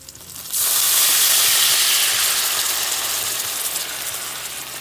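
Pot stickers steam in a hot pan, a sudden loud rush of hissing steam and sizzle that swells abruptly and then continues strongly, close by and without voices.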